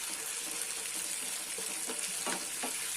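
Cornflour slurry poured into a sizzling chilli chicken semi gravy, giving a steady broadband hiss and sizzle with watery pouring and splashing textures throughout, close and fairly loud with no talk.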